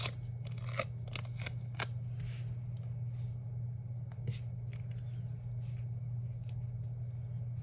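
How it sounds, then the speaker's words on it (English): Scissors snip through a planner sticker, cutting it in half: several quick, crisp close-up snips with small paper rustles between them over a steady low hum, no talking. "So I'm going to cut this one in half and use 1/2 on this side and 1/2 on this side."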